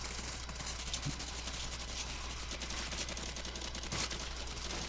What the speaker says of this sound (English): I like the way it sounds when you shoot it.